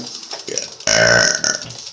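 A loud, drawn-out burp during a mukbang of a Qdoba burrito, close and dominant, rising sharply from quieter eating noises and lasting about a second before easing off.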